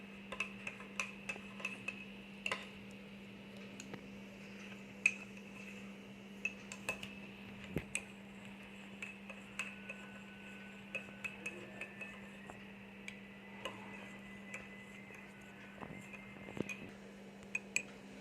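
A spoon stirs homemade dry fruit powder into a glass of milk, giving a run of light, irregular clinks and taps against the glass that repeat close up over a steady background hum.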